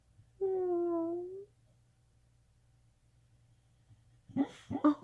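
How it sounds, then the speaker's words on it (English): A sleeping dog whimpers while dreaming, one long, high, wavering cry near the start, then quiet over a low steady hum before a few short whines and bumps at the end. "My dog's dreaming. Can you hear her crying?"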